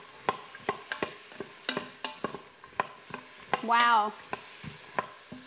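Fresh garlic stirred in a soup pot, with repeated sharp clicks and scrapes of the spoon over a faint sizzle, and a brief exclaimed voice in the middle.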